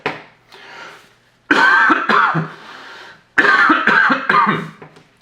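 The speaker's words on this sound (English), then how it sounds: "Step 4 was coughing." Someone coughs hard on purpose during a COVID-19 saliva test, in two separate bouts of several rough, harsh coughs each, close up, after a softer throat-clearing at the start.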